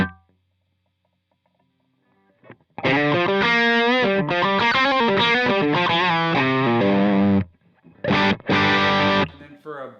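An electric guitar played through a Truetone VS-XO dual overdrive pedal rings out in distorted chords and melodic runs after a quiet start, drops briefly, then returns with a few more loud strummed bursts.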